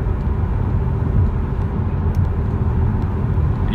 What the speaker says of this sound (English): So let's take the car for a drive.